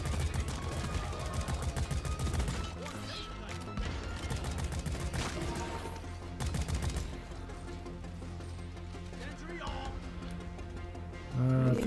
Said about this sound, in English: I'm gonna put a turret here.